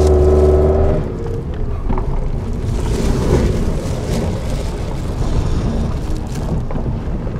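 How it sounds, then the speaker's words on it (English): A Scion xB with a low-power fault pulls at full throttle up a hill at about 2000 RPM and 11 mph, a steady low engine drone mixed with heavy road and wind rumble inside the cabin, after a brief tonal hum at the start. "a full throttle, 11 miles per hour up the hill at about 2000 RPM."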